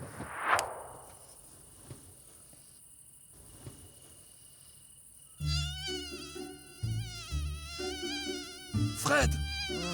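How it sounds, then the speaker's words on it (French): A cartoon mosquito buzzing around someone's ears at bedtime, a thin, high, continuous whine that goes on throughout while music comes in partway. "Il y a un moustique qui arrête pas de tourner autour de mes oreilles!"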